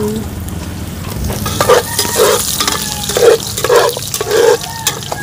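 Onions fry loudly in a pan set over a strong wood fire, sizzling steadily while the cook stirs them in a series of rhythmic bursts that come about every half second, close and unbroken.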